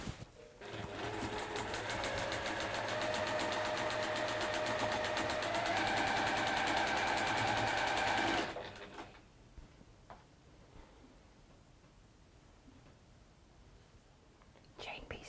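Sewing machine stitching the corner units of a quilt block, a loud fast rhythmic whir that runs for about eight seconds and then stops, followed by faint handling sounds and quiet talk.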